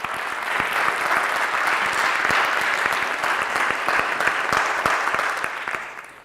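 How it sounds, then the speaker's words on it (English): A crowd applauds loudly and steadily with dense clapping for several seconds before it starts to fade at the end. "can I get everybody to give her a round of applause?"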